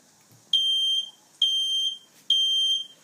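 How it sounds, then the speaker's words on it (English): A smoke alarm sounds in three loud, even electronic beeps, each about half a second long with short gaps between, heard alone with no voices. "Let the fire alarm keep ringing"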